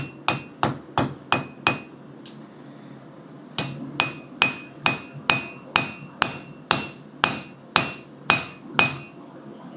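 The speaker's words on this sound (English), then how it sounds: "I actually really like to use the back of this hammer sometimes for flattening things out" A hammer flattens metal with sharp, ringing strikes in a steady rhythm. A first run of about seven close, loud blows stops briefly, then a second run of about eleven follows, with no talk.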